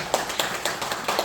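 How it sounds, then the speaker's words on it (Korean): A church congregation at a Sunday worship service claps for a member, a short run of light, evenly spaced hand claps, somewhat faint and brief. "우리 최봉훈 지사님 한번 박수로 한번"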